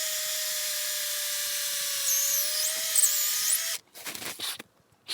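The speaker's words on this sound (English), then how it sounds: "you drill in here and you go up on a little bit of an angle" A cordless drill whines steadily as it bores at an upward angle into a birch trunk for tapping, then stops, followed by a few short bursts and rustling up close.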